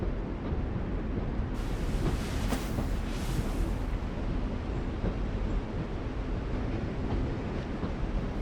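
Train ambience in The Walking Dead video game: a low, steady rumble of rail cars with faint rattling and a brief hiss, continuous and moderately quiet, with no talking.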